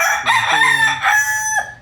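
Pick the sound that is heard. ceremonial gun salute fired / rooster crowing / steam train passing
rooster crowing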